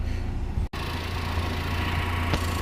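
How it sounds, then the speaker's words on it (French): A Chevrolet Camaro's four-cylinder engine idles with a steady low rumble and slight vibration, continuous throughout apart from a momentary dropout. "J'espère qu'on entend bien avec le bruit du moteur, je le laisse tourner"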